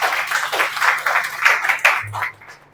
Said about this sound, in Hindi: सबसे पहले तालियों से इनका स्वागत कर लो।